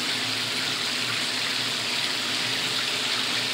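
Steady broadband rush of water pouring from a newly installed Danco universal tub spout, loud and close, continuous for the whole stretch with no pauses or voices.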